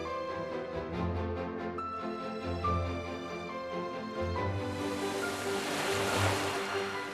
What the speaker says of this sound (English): the hypnotic rhythm of the waves will surely relax you